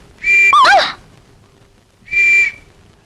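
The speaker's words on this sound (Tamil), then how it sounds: "வயிற்றுல இருந்து விசில் சத்தம் வருது" A comic whistle effect meant to come from a man's stomach after he swallows a whistle: two shrill, bright blasts, the first warbling and the second steady, loud and close, with no talking.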